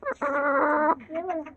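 Rooster and hens cluck close by, with one long drawn-out call followed by shorter clucks, loud and clear against a quiet yard.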